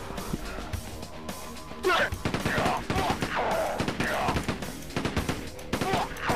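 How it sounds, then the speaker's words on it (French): Machine gun fire in Quake 2 on PlayStation, rapid bursts of gunshots with crashes and impacts over layered game sounds, dense and loud throughout. "c'est plus facile à mitraillette quand on peut dépenser des balles dans tous les sens"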